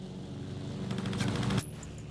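Gunfire in the World War II shooter Battlefield 1942, a short dense burst of rapid shots building up and then cutting off abruptly, fairly close, no talking.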